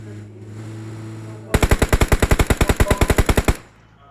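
Loud automatic gunfire in the battle-royale game PUBG on the Livik map: a rapid, even burst of about twenty close shots lasting two seconds, after a quiet stretch with a low hum.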